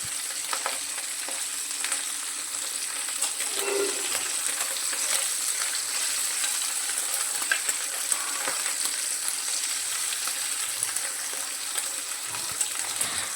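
Small maya fish frying in oil in a wok, giving a steady, dense sizzle with crackling and occasional stirring throughout, close and fairly loud, with no voices.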